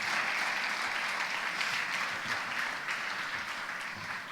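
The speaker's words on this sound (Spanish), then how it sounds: "De hecho, un aplauso para los 4," An audience gives steady, even applause for four speakers at a church gathering, a full wash of clapping that holds at a constant level and fades slightly toward the end.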